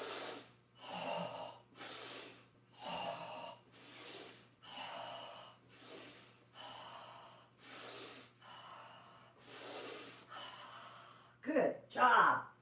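Rhythmic breathing during a full-body flexibility stretching class, about ten steady inhale-exhale swells spaced roughly a second apart, close and clear, ending with a couple of sharper gasps.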